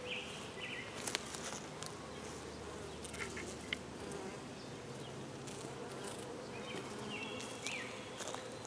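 Honey bees buzz continuously and densely around an open hive during an inspection. A few louder individual bees pass near, with occasional light handling clicks underneath.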